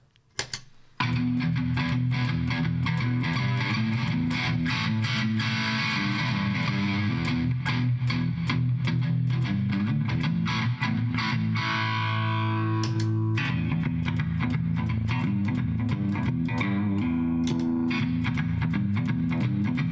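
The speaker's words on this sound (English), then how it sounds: "when I kick on the drive here, the By-tor, listen to this" Electric guitar through a By-tor overdrive pedal and an amp model, with thick distorted chords and chugging riffs played continuously and loudly, with no talking.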